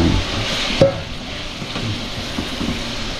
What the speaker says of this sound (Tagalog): Sunod naman nating medyo iprito ay yung ating atay.